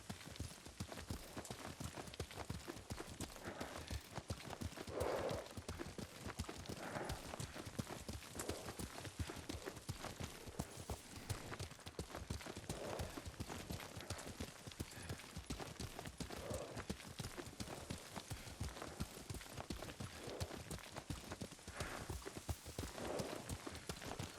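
Steady, rapid hoofbeats of a galloping horse in Ghost of Tsushima drum on without pause, loud and close, with faint voices surfacing now and then.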